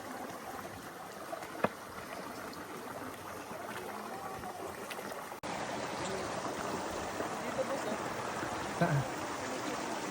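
A river on a Mt. Pinatubo hike flows with a steady broadband rush close by, continuous throughout as people talk briefly over it.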